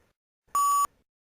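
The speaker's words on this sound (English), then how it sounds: "When you hear this beep," A single clean electronic test beep, a steady mid-pitched tone lasting about a third of a second, loud and alone in otherwise silent surroundings.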